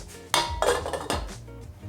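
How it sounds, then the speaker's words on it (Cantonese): A metal lid set onto a pot of chicken congee in a home kitchen, a few close clanks and rattles in quick succession, with no talk. "冚上個蓋佢。"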